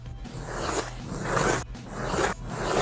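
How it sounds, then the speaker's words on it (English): An X-Acto knife slices paper along a ruler edge in three or four drawn-out raspy strokes, close and clear with short gaps between cuts. "Take your X-Acto knife and then just follow along the edge of the ruler there, and it should cut a straight line."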